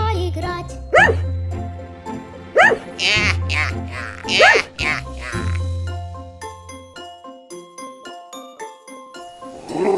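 A cartoon dog barks and yips in a children's song, with a few short barks between sung lines over a simple musical backing.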